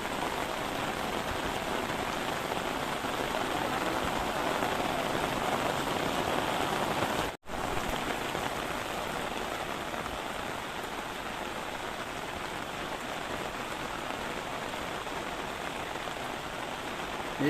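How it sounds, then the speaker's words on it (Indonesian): Steady, dense rain falls over Penglipuran village in Bali, a continuous close hiss of drops on surfaces broken only by a brief cut near the middle, with no voices. "Cuma saat ini kebetulan lagi hujan"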